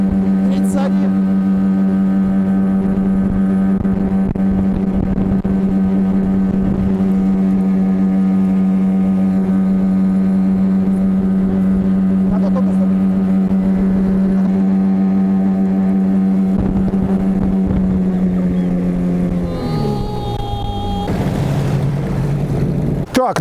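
Tohatsu 9.8 outboard motor running at high revs, around 5,200 to 5,700 rpm, during a propeller test: a loud, steady, even drone that holds throughout, then drops in pitch as the throttle eases near the end.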